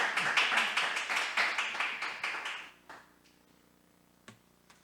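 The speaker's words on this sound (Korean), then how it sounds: "뜨거운 환영의 박수." A church congregation claps to welcome a missionary at a Wednesday service, with quick, even clapping that lasts about three seconds and then stops. A quiet room follows, with one faint knock near the end.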